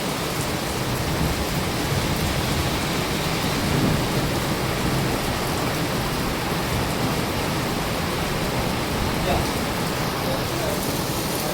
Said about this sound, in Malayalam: നല്ല അടിപൊളി മഴ.